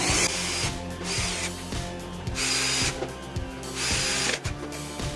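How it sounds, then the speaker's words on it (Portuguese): A power screwdriver drives screws into a CNC router's rotary fourth axis, with several close, loud whirring bursts separated by brief pauses and ratcheting clicks. "Então eu vou parafusar esses parafusos. Eu vou parafusar até o final."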